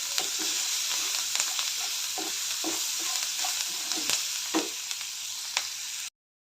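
Fried onions crackle in a pan as turmeric is stirred in, with a soft continuous sizzle and repeated scraping strokes of a spoon at an uneven rhythm, ending abruptly in silence.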